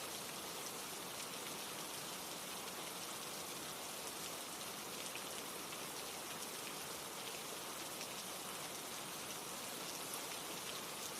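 Steady rain falls without a break, a dense and even hiss of drops that sounds close and is heard alone with no voices.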